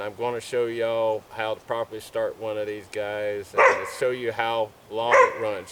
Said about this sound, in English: Sorry, that's my dog in the background barking.